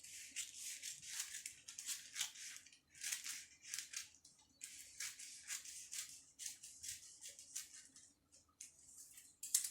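Scissors snipping through fabric while cutting out a shawl collar jacket, a steady series of close, crisp cuts with brief pauses between strokes.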